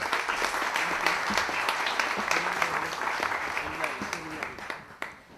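Sustained audience applause welcoming a speaker to the first lecture of a conference on chatbots and ChatGPT, dense steady clapping from a hall crowd that fills the whole stretch and thins slightly near the end.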